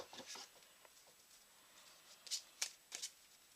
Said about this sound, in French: On va claquer les 3 cartes de viande.